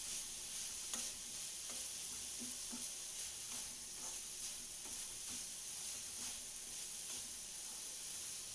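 Modak sweet filling with ground cardamom is stirred in a pan, a soft, even sizzle broken by regular scraping strokes of the spoon, close but gentle.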